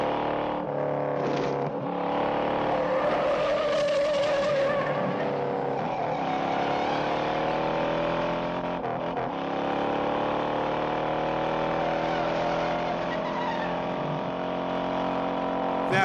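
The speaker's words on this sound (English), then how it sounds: "It was used to block intersections that they were racing through to make it safer for the Charger and the Mustang, especially with Stebe McQueen in it." A Dodge Charger and Ford Mustang racing in the Bullitt car chase, with loud revving engines rising and falling in pitch and a squeal of tires early on, sustained and close.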